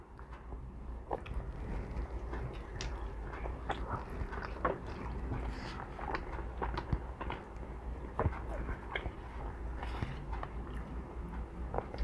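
Close, wet chewing and biting of a Taco Bell Double Stack taco of meat and cheese, with repeated soft crunches and squishy mouth sounds over a low background rumble.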